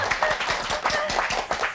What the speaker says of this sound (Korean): 네, 푸에게 다시 한번 박수 좀 부탁드리겠습니다